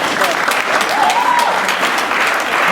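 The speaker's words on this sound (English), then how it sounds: "round of applause." Audience applause after a startup weekend pitch, steady loud clapping from a crowd filling the whole stretch, with a few faint voices mixed in.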